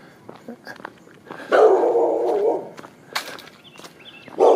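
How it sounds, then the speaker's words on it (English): A dog barks from a house along a residential street, a few sharp barks near the start and end with a longer whimpering or yowling stretch between, heard from the street amid passing footsteps. "This house here with the dog barking, he's scared of me."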